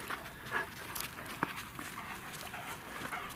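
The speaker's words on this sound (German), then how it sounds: "So lieb die Hunde." Dogs panting softly with a few faint whimpers and light sniffs, quiet and close, heard outdoors during a snowy outing with some background noise and no clear talking.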